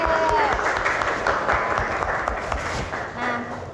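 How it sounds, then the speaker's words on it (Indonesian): Classroom applause for a student, a steady burst of many hands clapping at moderate volume that fades slightly toward the end. "Tepuk tangan dulu untuk Asep."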